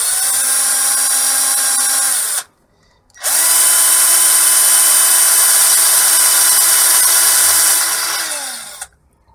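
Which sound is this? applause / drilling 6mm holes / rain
drilling 6mm holes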